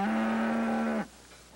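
A single cow gives one loud, sustained moo, held steady for about a second before it breaks off and leaves only faint background.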